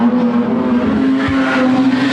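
Wingless sprint cars race on a watered speedway, loud engines howling steadily as they come off the final turn onto the front straight, with a faint tyre scrub underneath.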